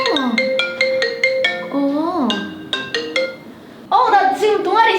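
A mobile phone ringtone plays for an incoming call, a bright melodic sequence of repeated chiming tones with short pauses, loud and close, with no voices over it.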